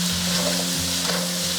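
A spatula stirs soy sauce, cooking wine, oyster sauce and salt into pork braised with cola in a wok, giving a steady close sizzle with soft scraping strokes and a low constant hum.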